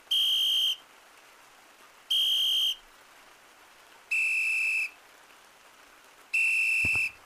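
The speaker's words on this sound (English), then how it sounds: "A whistle?" Four shrill, steady whistle blasts sound in the Gorilla Tag VR game, each lasting under a second and evenly spaced about two seconds apart, loud and clean over a faint background hiss.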